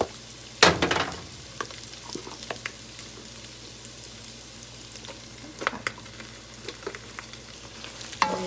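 Flour and fat sizzle and fry in a soup pan, with scraping stirs and occasional clinks of a utensil against the pot, close and moderately quiet.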